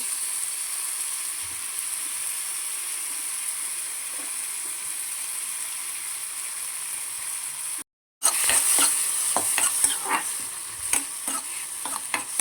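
Mushrooms, capsicum and green chillies sizzle in hot oil and butter in a pan, a steady soft frying hiss that is briefly cut, then returns louder with clattering stirs and sharp crackles.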